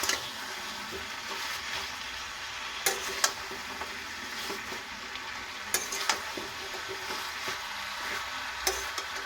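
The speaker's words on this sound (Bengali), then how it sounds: "এবার নাড়িয়ে নেব।" Tender pumpkin greens and potatoes stirred in a frying pan, a steady background sizzle broken by a few sharp spoon scrapes and clicks against the metal.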